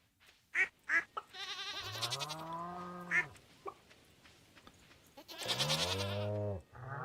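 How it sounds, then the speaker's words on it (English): A goat in the farming video game Stardew Valley gives several wavering, nasal bleats, loud and close, mixed with short clicky blips and ending in a long drawn-out bleat. "Oh, you're a goat."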